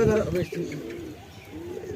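Pigeons, including teddy and andra breeds kept at a home loft, coo in low soft repeated calls close by, with people talking over them.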